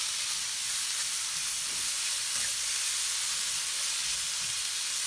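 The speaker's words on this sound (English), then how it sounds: "We're gonna add our franks in there. We'll throw a little bit of bacon so they won't get stuck to the pan." Franks and bacon sizzle in a hot pan, a steady, loud hiss with faint pops running without a break and no voices.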